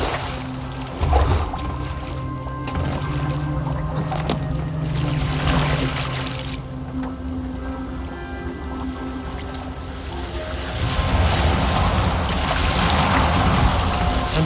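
A Viking longboat glides over water in Assassin's Creed Valhalla, with a steady broad wash of waves and hull noise, wooden creaks, oar splashes and trickling water, which swell louder toward the end with no speech.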